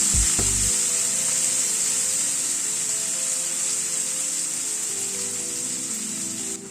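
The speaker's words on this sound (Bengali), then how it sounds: "এবার পেঁয়াজটাকে একটু ভেজে নিচ্ছি।" Sliced onions sizzle steadily in hot oil in a pan as the base for a Bengali cabbage curry. The frying hiss is close and continuous, with a few stirring clatters near the start.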